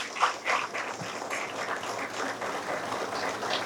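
An audience at a college retirement function claps together in faint, steady, distant-sounding applause that lasts a few seconds, with no speech.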